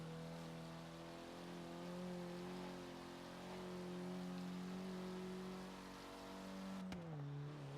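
Steady engine drone of a car in Forza Horizon 3 at sustained speed, harmonics holding with slight pitch drift, then dropping sharply near the end as revs fall; alone, no talk, with road and wind hiss throughout.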